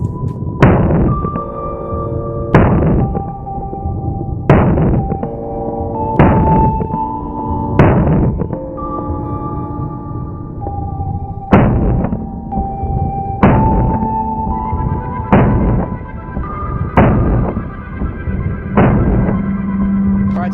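Pistol shots from a Keltec PR57 and a 5.7 Rock, about ten loud, sharp reports evenly spaced roughly two seconds apart, each with a ringing tail and no talk between them.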